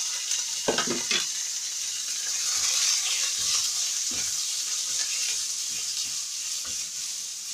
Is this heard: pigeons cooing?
no